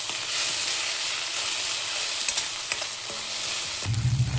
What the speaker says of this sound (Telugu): ఆనియన్ చూసారా కొంచెం వేగింది, ఇంకా వేగాలి